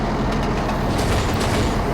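A train in the Trainz simulator game, a DEMU arriving at Paramakudi station, rumbles loudly and steadily, with a constant low roar of wheels on rails and no voices.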